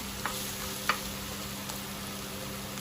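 Onions and tomato for duck curry fry in a pan with a faint, steady sizzle, broken by a couple of soft clicks from the stirring, with no voices.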